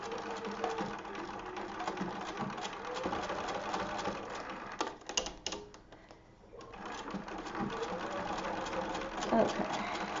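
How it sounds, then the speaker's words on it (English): A sewing machine stitches a thick seam on a fabric trivet, running in steady motorized bursts with a short pause partway through before resuming, fairly quiet and close. "I am going to back stitch at the beginning and at the end"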